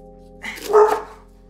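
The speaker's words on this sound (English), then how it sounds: "And there goes the dog." A single dog barks sharply once or twice at mid distance, loud and alone with no talk over it, in a home kitchen during cooking.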